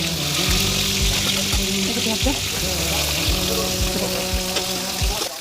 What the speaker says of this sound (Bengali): এই গোটা গোটা গরম মশলাটা ফোড়নে দিয়ে দিচ্ছি ফোড়ন দিয়ে দিচ্ছি এবার পেঁয়াজটা দিয়ে দিচ্ছি